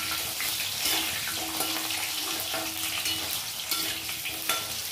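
Chopped onions and whole spices frying in a pan for a yam and pea curry, with a steady close sizzle and a spoon stirring and scraping now and then, no voices.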